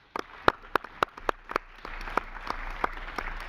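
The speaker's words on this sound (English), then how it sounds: "I think that we should applaud her." Applause rises in a parliamentary assembly hall for a newly elected judge at the PACE autumn session: scattered individual claps first, then broadening into steady, moderate clapping from the seated members.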